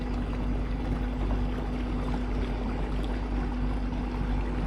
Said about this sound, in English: You can kind of hear the noise of the trolling motor too.